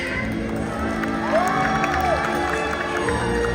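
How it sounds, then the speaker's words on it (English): A stadium audience at a SeaWorld Orlando night orca show cheers and whoops in a broad, sustained roar, with a few shrill voices rising above the steady crowd noise. "Should we give her a great big cheer?"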